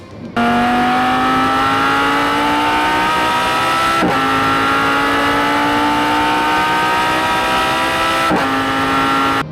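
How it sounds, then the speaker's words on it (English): Italian supercar engine, high-revving, held at a steady loud drone with two brief shift-like interruptions, close and continuous with no talk. "Absolute gem of a car, high revving."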